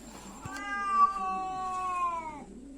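A female cat lets out one long, drawn-out caterwauling meow, close and clear, rising and holding before trailing off, with no talking.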